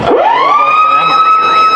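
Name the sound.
full-time siren at a rugby league match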